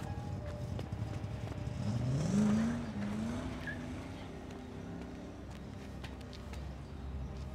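Motorcycle riders pass in the horror video game Unholy: a faint, distant engine drone swells and rises in pitch around the middle, then fades under a steady low background rumble.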